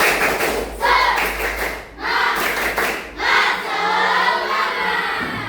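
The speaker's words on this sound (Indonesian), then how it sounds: "Coba semuanya tepuk semangat dulu, tepuk semangat." A classroom of students does a rhythmic spirit clap together, sharp patterned bursts of hand claps and thumps separated by brief pauses, with group voices joining in.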